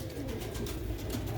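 Sialkoti pigeon cooing, a short low throaty coo that rolls on steadily and moderately close, with no voices over it.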